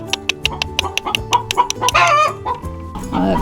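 Hens cluck close by in a quick series of short, sharp calls, with a louder burst of excited squawking in the middle and more clucking toward the end.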